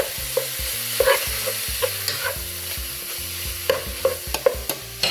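Ground meat for taco soup frying in a pan, a steady sizzle broken by repeated scraping stirs and light utensil knocks at an irregular rhythm, close and moderately loud with no voices.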